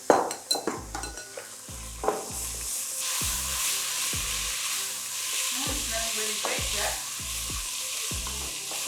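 A wooden spoon stirs rinsed lentils in a cooking pot, giving a steady run of close scraping and knocking strokes over a continuous sizzling hiss, with no talk.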